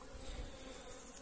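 Honeybees drone around an open beehive on a Portuguese farm as winter approaches, making a soft, continuous buzz at a fair distance with no voices.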